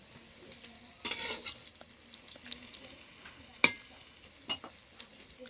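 Sweet potato pieces fry quietly in a pan, giving a faint, low sizzle broken by a few sharp clinks and scrapes as the pieces are turned.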